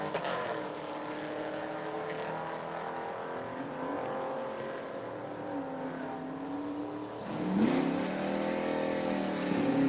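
A racing car in lane 10 at a circuit event accelerates, its engine droning steadily in the distance before a louder rising surge of revs near the end.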